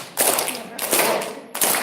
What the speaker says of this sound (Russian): вот видите, я хлопаю сильнее, чем вы